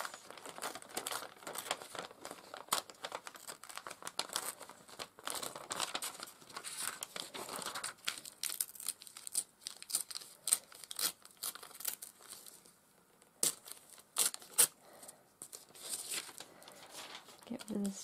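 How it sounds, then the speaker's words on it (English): Paper is torn by hand around a dried painted figure, giving a steady run of soft crinkling rips and crackles. The tearing is close and fairly quiet, with a brief pause near the end. "I'm going to tear around her."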